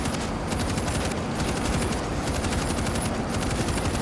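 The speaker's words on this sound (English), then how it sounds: "Oh, this is a light machine gun thing." A light machine gun in World War Z fires a continuous, loud, rapid stream of shots against zombies climbing a fence, dense and unbroken for the whole stretch.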